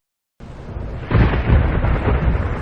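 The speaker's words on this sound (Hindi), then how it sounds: "अरे आज फिर तेज बारिश आ गई।" Heavy rain starts abruptly and keeps up a loud, steady roar, with a deep rumble of thunder rolling in partway through and continuing to the end, with no voices.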